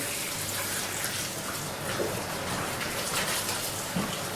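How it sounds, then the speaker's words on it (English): Water from a tap runs steadily into a kitchen sink being filled to wash chard, a constant close splashing rush with no pauses. "we fill the sink with water"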